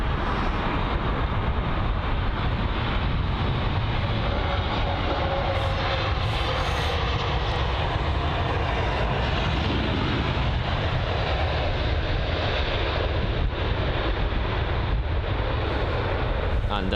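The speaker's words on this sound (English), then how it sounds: "the British Airways A320-200 there, that's arriving from Vienna" A British Airways Airbus A320-200 jet arriving at London Heathrow makes a steady, loud engine roar throughout, with continuous wind buffeting on the microphone.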